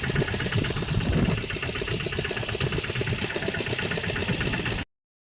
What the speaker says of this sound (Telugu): మనం అయితే ఇంజిన్ మీద ఉన్నాం